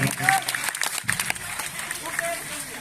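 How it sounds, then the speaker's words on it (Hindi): An audience applauds at a Chhattisgarhi Ramayan program, a steady wash of clapping from the crowd with a voice talking over it. "आत्मीय सम्मान एक बार जोरदार ताली से सम्मान"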